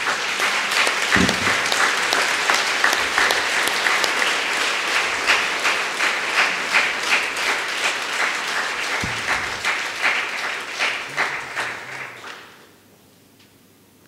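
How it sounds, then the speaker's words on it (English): An audience applauding in a hall, dense sustained clapping at full volume for about twelve seconds before it quickly fades out to near silence. "We have to give a clap to the Lord for this."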